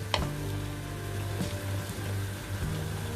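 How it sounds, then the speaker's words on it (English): Mussels and mushrooms sizzle steadily in a hot pan, a close, even frying hiss with a few soft clinks and stirring bumps. "Those mussels are coating and cooking lovely."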